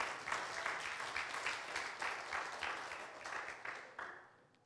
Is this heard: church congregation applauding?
yes